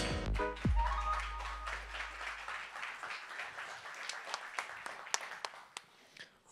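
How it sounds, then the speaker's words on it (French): Lecture audience applauding to welcome a speaker at a talk on earthquakes and renewable energy, a thick burst of clapping after a loud thump, thinning into scattered sharper claps as it fades. "vous laisse donc accueillir Ionis Stéphanou sous un tonnerre d'applaudissements"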